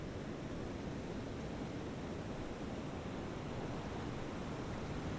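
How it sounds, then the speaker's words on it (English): A gently flowing stream gives off a constant, soft, broad rushing wash, faint and even throughout with no voices. "The sweet sound of the stream, gurgling and bubbling gently."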